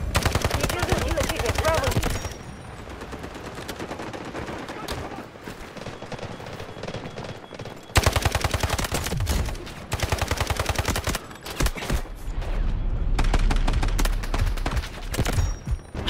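Automatic weapons fire in the mobile shooter game Delta Force: Mobile, loud rapid bursts of shots broken by short pauses, with quieter stretches of game ambience between volleys.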